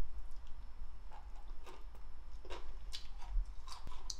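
Close-up crunchy chewing of sow thistle greens dressed with gochujang and red chili, with a run of crisp, irregular bites and no talk.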